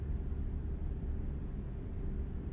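A steady, low truck engine hum in American Truck Simulator drones on without a break, a deep continuous rumble like a heavy truck idling along, with no voices.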